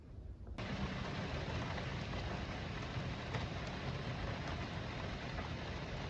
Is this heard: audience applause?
no